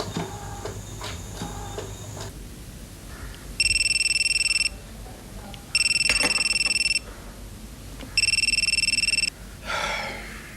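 A telephone rings in a home, three loud electronic ring bursts of about a second each, evenly spaced with pauses between, over faint room noise.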